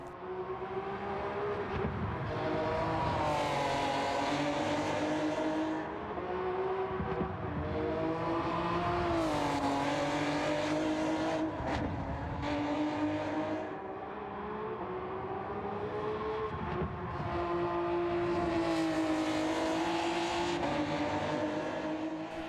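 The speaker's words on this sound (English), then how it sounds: "There is just something about these Super GT cars on the downshift that sounds so awesome." A high-revving Honda NSX GT500 '08 Super GT race car engine in Gran Turismo 7 drones steadily, rising and falling through upshifts and downshifts, loud and close with an onboard feel, no talk.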